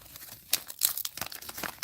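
A plastic wrapper on a 2013 Upper Deck Iron Man 3 trading card pack is peeled open, giving a few close, quiet bursts of crinkling and tearing with no talk.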